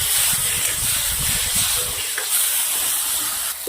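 Chopped tomatoes go into a hot pan of sautéing onions and cashews, giving a loud, steady broadband sizzle that eases slightly partway through, with no talking over it.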